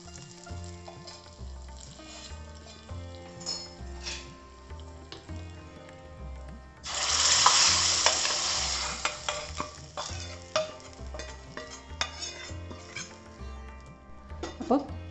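Hot fenugreek seasoning poured into thick kalan, a burst of loud sizzling midway amid repeated spoon scrapes and stirring against the pot.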